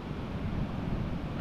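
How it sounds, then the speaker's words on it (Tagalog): Strong sea waves roll onto a beach in a steady, close wash of surf mixed with wind rumble, continuous throughout. "Malakas ang alon."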